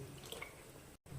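Horse gram cooking water is poured into a simmering pot, a faint trickling, gurgling flow with a brief cut to silence near the end, then a soft bubbling return, with no voices.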